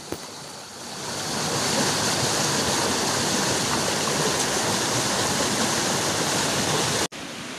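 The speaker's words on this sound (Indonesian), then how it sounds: "aliran sungai menuju Curug Cikoneng itu tadi teman-teman. Alirannya sungai ini ya lumayan cukup deras." A fast-flowing river rushes loudly toward the Curug Cikoneng waterfall near Puraseda, Bogor, its dense broadband roar swelling in and holding steady close to the microphone.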